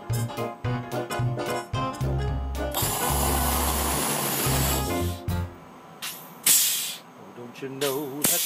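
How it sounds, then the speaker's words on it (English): Oxygen rushes out of an expired tank being drained aboard a space station: a loud, steady broadband hiss lasting about two seconds, with a shorter burst later, set among music and other tonal sounds. "just drain this oxygen tank so we get the free oxygen in the space station"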